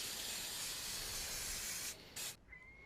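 An aerosol spray can coats a terrain model previously sprayed black, giving a loud, steady hiss for about two seconds, then a short second burst before it cuts off and the room falls quiet.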